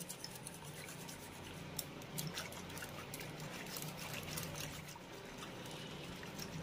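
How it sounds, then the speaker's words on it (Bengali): Yogurt being whisked into water in a bowl makes a faint, steady liquid swishing and dribbling that continues throughout, close and quiet, with no talking. "এবার আমি দই আর জলটাকে খুব ভালো করে একবার মিশিয়ে নেব"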